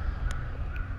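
Crows caw in the Mortal Kombat 1 video game, two short harsh calls at a moderate distance over a loud low rumbling background.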